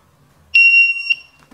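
A homemade DIY spot welding machine gives one loud, steady electronic beep of about half a second after its mode button is pressed, followed by a brief second chirp. No one talks.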